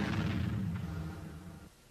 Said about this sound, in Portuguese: quando os gases e o ar são misturados na proporção certa, isto pode levar a uma explosão